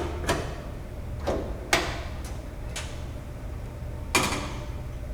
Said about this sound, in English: then open the front door